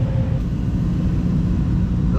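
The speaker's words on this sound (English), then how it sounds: "Oh, there goes truck number 2 for the day." A second loaded dump truck leaves a red Georgia clay site, its low engine growl droning steadily nearby with a slight swell in the middle of the short stretch.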